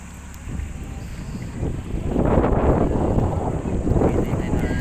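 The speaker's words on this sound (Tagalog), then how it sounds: "Hangin na yan" Strong wind buffets a tourist boat at sea, a loud roaring rush that swells louder midway and stays heavy to the end, with no clear speech.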